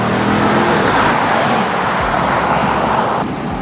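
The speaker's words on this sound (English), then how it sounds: "The shiftable automatic does shift fairly quickly." A 2015 Chevrolet Camaro SS convertible with a shiftable automatic drives on open road, its engine and wind roar steady and loud throughout, a slight dip near the end as a gear changes.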